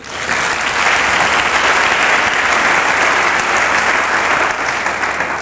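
A church congregation applauds and cheers in a sustained, loud, dense wash of clapping that holds steady for several seconds with no talk over it.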